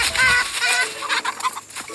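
Chickens burst into agitated, angry clucking and squawking, a dense close-up flurry of harsh cries lasting a couple of seconds with no talking.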